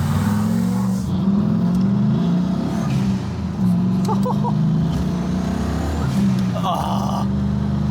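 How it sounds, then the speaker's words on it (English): Turbocharged 1000 hp Pontiac Trans Am cruising at steady speed, a smooth low engine drone running throughout with faint road noise and brief rattles. "This car is so quiet."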